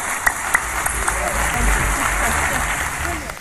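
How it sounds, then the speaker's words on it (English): Audience giving a warm round of applause for Jacque Fresco, steady dense clapping from a crowd throughout, with a few sharper individual claps standing out near the start. "Please, a warm round of applause for Mr."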